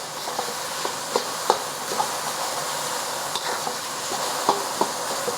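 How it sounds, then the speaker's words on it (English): Pork searing in a hot wok, a steady sizzle and hiss with scattered sharp scrapes and clicks of a spatula as the meat is flipped and moved around, close and alone with no talking. "once you get a good sear on the bottom, flip it over, and then we're gonna start moving the pork around to cook it through"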